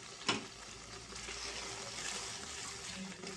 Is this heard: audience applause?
no